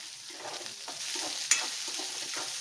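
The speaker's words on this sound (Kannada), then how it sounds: "ಸ್ವಲ್ಪ ಫ್ರೈ ಮಾಡ್ಕೊಳ್ಳೋಣ ಈರುಳ್ಳಿ" Chopped onion, added after garlic, sizzles in a pan over a medium flame, a steady close frying hiss with faint stirring scrapes and one sharp clink.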